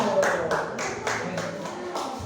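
Students in a classroom clap for a group that has just presented, several rhythmic rounds of hand claps in a steady beat, with voices mixed in.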